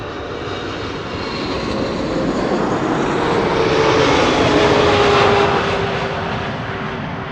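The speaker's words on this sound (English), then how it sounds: "It's a 777-300" A KLM Boeing 777-300 arriving at Amsterdam Schiphol after a flight from Johannesburg, its engine roar swelling as it passes close by, then slowly fading, with no one talking.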